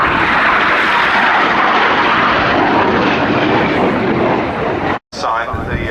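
Red Arrows RAF jets pull a 6G turn about 100 feet above the ground at an airshow, a loud continuous roar passing close overhead that breaks off abruptly near the end before more engine noise returns.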